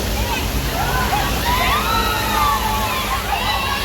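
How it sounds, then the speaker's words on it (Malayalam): Water gushing and splashing at a water park pool, a loud continuous rushing wash with sloshing underneath and excited voices of people in the background. "അപ്പോൾ നമുക്ക് അതിൻ്റെ മുകളിൽ നിന്ന് ഇങ്ങനെ വെള്ളം ബക്കറ്റിൽ ഇങ്ങനെ തലയ്ക്ക് ഒഴിക്കും."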